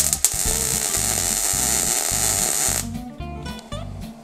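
Steel rods are welded for a hose reel core, giving a steady hissing, pulsing buzz that runs for nearly three seconds before stopping, followed by a few faint clicks.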